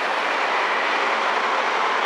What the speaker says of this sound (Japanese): やくも18号岡山行きの列車が入線してまいります